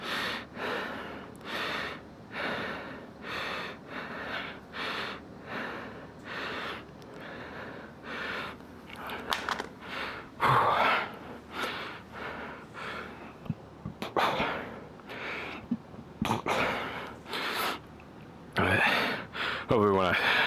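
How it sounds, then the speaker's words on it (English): Heavy, rhythmic breathing of a man winded during a squat workout, each loud exhale repeating every second or so, close up, with occasional snorts and gasps and a few spoken words. "I am out of breath on this one."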